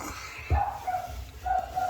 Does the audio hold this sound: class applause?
no